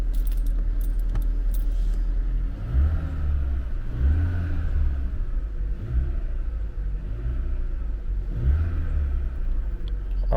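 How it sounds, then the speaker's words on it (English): A Vauxhall Insignia 1.4T engine with its stock paper air filter runs cold, giving a steady low idle rumble with a few slight revs and a brief jingle of keys near the start. "see what the engine sounds like with the stock paper filter"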